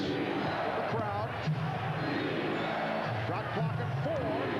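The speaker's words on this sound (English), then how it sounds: "Chant of defense with the crowd." A basketball arena crowd at a 1996 Bulls versus SuperSonics game chants a steady, rhythmic call of "defense", loud and continuous, with a commentator's voice running over it.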